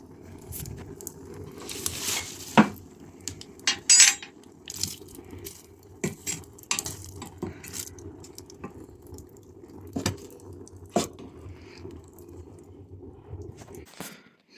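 Cats eating dry food scattered directly on a tile floor: soft crunching and scattered clicks of kibble on tile, irregular and close, over a quiet low hum.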